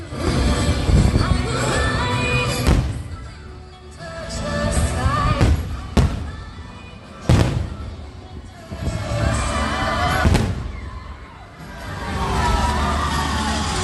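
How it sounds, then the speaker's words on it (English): Fireworks bursting over the castle at a theme park, with several sharp, loud bangs spaced a few seconds apart over a busy crowd and ride rumble, and someone talking throughout. "Got the Seven Dwarfs Mine Train rolling by as the fireworks are going off."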